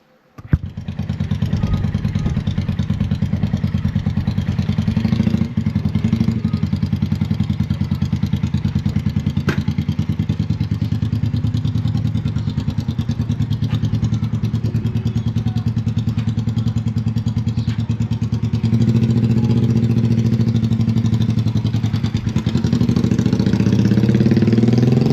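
A 125cc Sinnis Heist hardtail chopper motorcycle starts and then idles close by, with a steady low, throbbing engine note and light mechanical clatter that holds for the whole stretch without talk.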